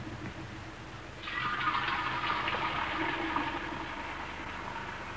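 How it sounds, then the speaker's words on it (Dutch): Water from a tap runs into a bucket as a radio play sound effect, starting after a quiet moment and then hissing and splashing steadily at close range, with no talking. "Toen ging ik naar de kraan om de emmer te laten vollopen."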